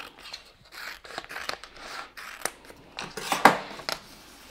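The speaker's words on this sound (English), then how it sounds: "So I'm just going to carefully trim around the edge of the design." Scissors snip around the edge of a heat transfer vinyl design cut for a pot holder, a run of close, crisp cuts and rustles in an uneven rhythm with no talking.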